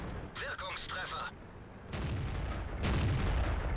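Artillery fire in the World of Tanks video game, with booming, rumbling blasts in the second half that follow a stretch of synthetic voice-like tones at the start.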